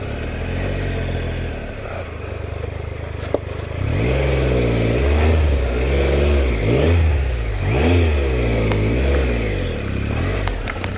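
A Triumph Explorer XCa motorcycle engine idles nearby, then revs repeatedly in rising and falling surges, loud and close throughout.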